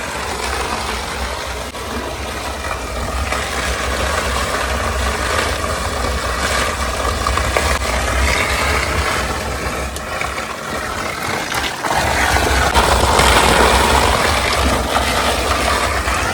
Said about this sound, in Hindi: ये पानी की आवाज़ है, पानी नीचे जा रहा है।